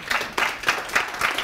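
Audience applause at a French-language relationship intelligence conference, a short burst of clapping with rhythmic peaks, moderately loud and close, with no voices over it.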